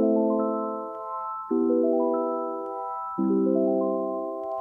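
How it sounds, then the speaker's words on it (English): Arpeggios played on the Audanika SoundPrism app, a touchscreen synth, ringing out as three ascending sweeps of sustained, overlapping notes, each run restarting from a low tone, loud and clear with no talking. "this is how you play arpeggios on Audanika SoundPrism"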